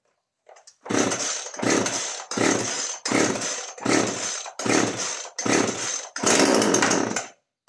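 A McCulloch brushcutter that has sat unused for three months fires up, its small two-stroke engine roaring in about eight loud, close revving bursts separated by brief drops.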